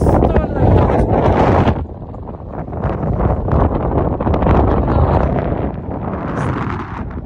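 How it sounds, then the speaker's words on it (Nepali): Strong wind sweeps the high-altitude Tilicho Lake base camp in Manang, Nepal, a loud, continuous roaring buffet on the microphone that dips briefly, then surges back and persists throughout. "हावा त यस्तो"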